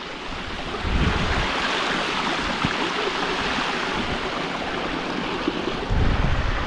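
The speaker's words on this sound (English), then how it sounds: "Small river, but still a river." Steady rushing water of a small river in Scotland, with broad noisy wash and some wind buffeting, close and continuous without voices.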